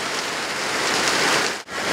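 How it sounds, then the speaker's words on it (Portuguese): Steady rain pours down in a town setting in Gramado, a dense, even hiss of drops on surfaces that holds close and loud throughout, with only a brief dip near the end. "foi só entrar aqui e agora começou uma chuva"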